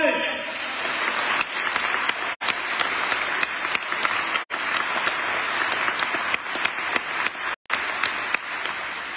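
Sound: audience applause for a performer at a concert

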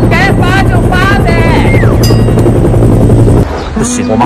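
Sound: aircraft flying overhead, likely a helicopter

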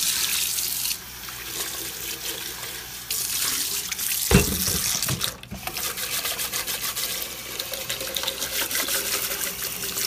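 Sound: water running from tap to rinse a container

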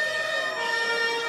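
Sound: sirens sounding around a classic car show

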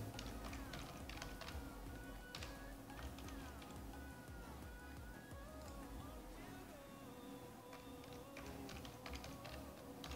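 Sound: typing a password on a computer keyboard

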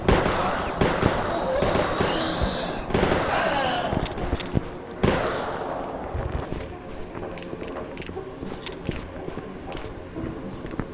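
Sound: gunfire in Zaptiye Osmanlı video game

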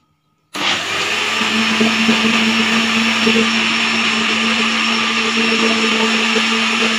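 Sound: blender making a milk shake

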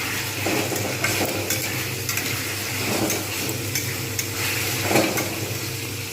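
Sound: frying pointed gourd and potato pieces for khichdi

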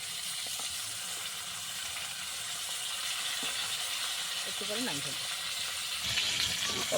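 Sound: fish frying in oil in a pan

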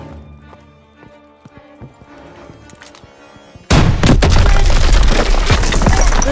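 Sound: launcher blasting through a weak wall, Call of Duty: WWII video game

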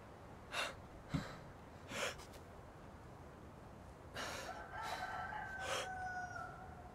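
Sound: rooster crowing in the video game DayZ

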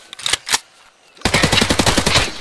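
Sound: gunfire shooting at the player in a video game

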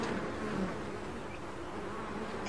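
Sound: bees buzzing and humming, audio record effect

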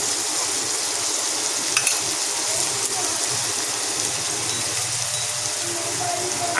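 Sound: onions frying in oil

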